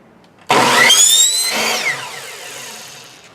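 A miter saw cuts electrical conduit pipe, starting with a sudden loud spin-up and a screeching bite through the metal, then a whine that winds down and fades over a few seconds.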